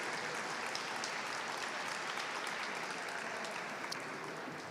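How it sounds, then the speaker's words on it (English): A crowd at a state house rally for human services workers applauds steadily, a dense, continuous wash of clapping heard at moderate distance with no voices over it. "Give yourselves a round of applause."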